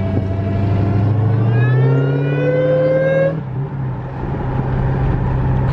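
A 2016 Dodge Hellcat bought from a salvage auction, running in limp mode with its engine light on, revs up loud and close, pitch climbing steadily for about three seconds before dropping back to a rough idle.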